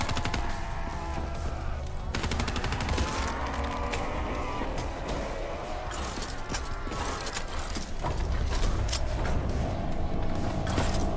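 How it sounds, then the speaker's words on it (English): Gunfire aimed at zombies in the video game Black Ops 3, rapid dense bursts of shots and impacts with game effects layered in a constant, loud mix throughout. "Just gonna shoot these zombies a bunch."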